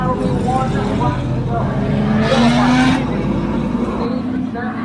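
Race trucks at New Smyrna Speedway roar past loudly, one engine surging by with a rising and falling pitch against a constant engine din.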